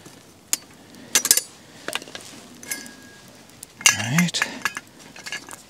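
Hot boiled eggs placed into a camping bowl outdoors, giving a few sharp clinks and knocks scattered across the clip, with one louder rattling clatter near the end and a quiet background.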